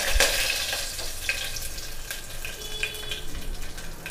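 Curry leaves sizzling as they hit hot oil for tempering a mixed vegetable poori curry, a bright crackling burst at first that settles into a steady hiss with scattered pops.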